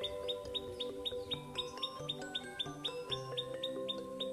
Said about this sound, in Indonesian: Suara burung sahabat, burung apa ya, burung ciklak